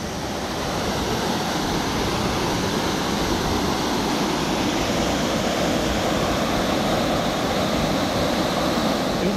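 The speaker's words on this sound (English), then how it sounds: "I think this is Long Creek Falls." Long Creek Falls on the Appalachian Trail, a waterfall in a forest, roaring as a loud, steady rush of water that continues without a break and with no voices.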